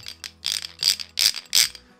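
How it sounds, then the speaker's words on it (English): Gearbox crunch from a worn balk ring in a Mini Cooper S: five rapid, harsh grinding bursts in about two seconds, each rising to a loud metallic rasp, close and without talk. "That at higher speed is that crunch you hear."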